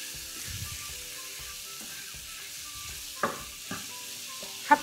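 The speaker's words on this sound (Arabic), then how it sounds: "هبتدي اقلب كده الفراخ" Chicken with spices frying in a pan and being stirred: a low, steady sizzle with a few sharper scraping clatters of the utensil near the end, no talk.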